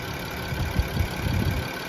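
A 2021 VW Atlas SE with a VR6 V6 engine idles steadily at close range, a low, even rumble with slight fluctuations and no talk over it.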